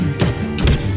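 A cartoon punch lands on a bandage-wrapped mummy with short, punchy thuds, two main impacts within a second over a busy animated soundtrack.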